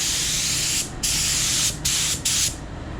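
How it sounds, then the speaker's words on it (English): Four bursts of self-etch primer aerosol spray hiss in short succession, close and loud, with brief pauses between them, sprayed inside a Wagoneer's car interior. "Spray over the self-etch and everything"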